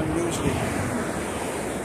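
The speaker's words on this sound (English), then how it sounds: "unusually windy around this time here in El Paso" Steady wind gusting outdoors in El Paso, Texas, a continuous broadband rush with mic buffeting, loud and unbroken throughout with no voices.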